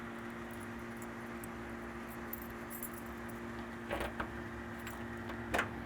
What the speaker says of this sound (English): Got a couple of trunk keys here.